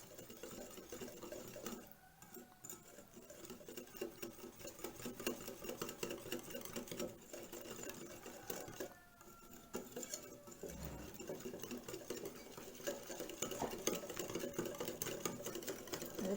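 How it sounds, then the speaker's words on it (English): A whisk beats a thickening raw vegan eggplant bacon marinade in a bowl, making a fast, steady, rhythmic clatter that stays close and fairly quiet, with no talking. "all you got to do is whisk it"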